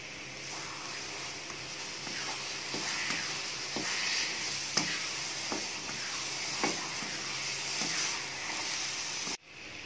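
Banana halwa with ghee sizzles in a pan while a spoon stirs it, a steady close hiss broken by soft periodic scraping strokes, no talk.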